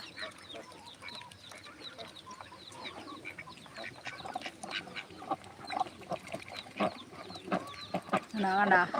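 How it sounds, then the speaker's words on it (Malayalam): A flock of ducks moves along together, quacking and clucking in a dense, overlapping chorus that grows louder toward the end, with chickens mixed in and a voice speaking intermittently. "എല്ലാ താറാവും പോകുന്നുണ്ട്"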